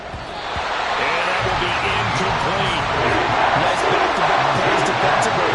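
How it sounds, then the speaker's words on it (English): Football stadium crowd building up ahead of a big third down: a loud, continuous roar of massed voices that swells and holds, with a commentator talking over it. "The crowd getting into it as we come up on a big third down."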